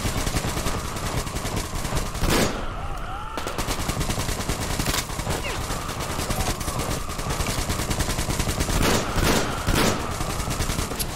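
Gunfire from the video game Metro Exodus rattles in dense, rapid bursts with a few heavier sharp shots standing out, loud and continuous throughout, with no speech.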